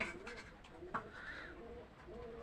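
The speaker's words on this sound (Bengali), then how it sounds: "কয় জোড়া কবুতর?" Pet pigeons coo softly in a loft, giving low, faint, rounded calls against a quiet background.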